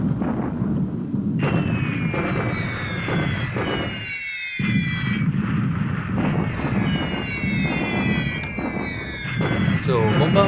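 Bombardment explosions in the War in the Pacific strategy game boom and rumble in a dense, continuous barrage, with whistling shells falling in bursts and a brief gap midway, under no talk.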